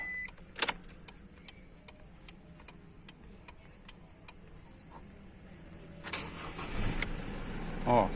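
Regular faint ticks sound steadily at close range in a 2020 Isuzu D-Max 1.9 after its battery replacement. The engine then starts, and a rough rumble swells and holds over the last couple of seconds.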